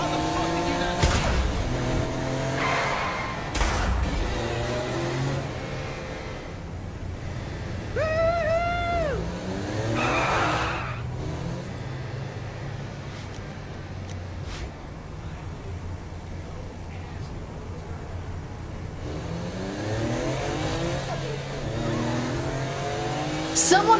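A car engine revs and drives in the video game Saints Row The Third, with accelerating engine noise running steadily under frequent talk throughout.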